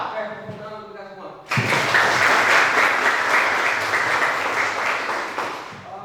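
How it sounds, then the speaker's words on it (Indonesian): A classroom of students breaks into sudden loud applause after a brief moment of speech, and the clapping keeps going steadily to the end, fading only slightly. "Tepuk tangan untuk kita semua."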